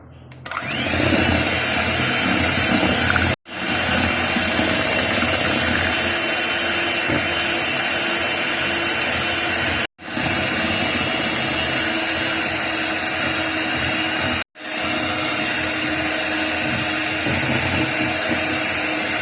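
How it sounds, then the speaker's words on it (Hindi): Electric mixer beating eggs with sugar for a vanilla sponge cake, a steady loud whirring drone that cuts out briefly three times and restarts, running alone without talk. "अब आहिस्ता आहिस्ता करके मैं इनके अंदर चीनी ऐड करूँगी, थोड़ी थोड़ी करके हम डालेंगे और साथ साथ बीट करते जाएंगे"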